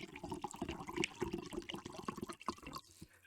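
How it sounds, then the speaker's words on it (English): Liquid poured close to a microphone for an ASMR effect, a continuous splashing, gurgling stream with small drips that stays fairly quiet and fades toward the end. "here's an ASMR drink pour"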